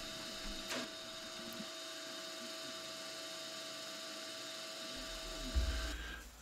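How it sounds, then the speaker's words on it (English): A machine power-taps an M4 thread against the quill stop, giving a steady mechanical whine and hum with a brief low thump near the end. "power tapping M4 thread against the stop, quill stop that is"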